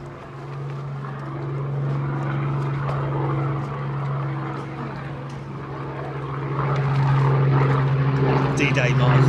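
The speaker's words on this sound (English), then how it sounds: "Hurricane going up first." A Hawker Hurricane propeller aircraft from the Battle of Britain Memorial Flight takes off at an air display. Its engine gives a steady droning hum that swells louder toward the end, and spectators talk over it.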